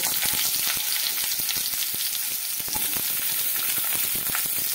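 Potato and eggplant pieces frying in hot oil with garlic in a pan, a steady dense sizzle with crackling pops running throughout at close range, no talking.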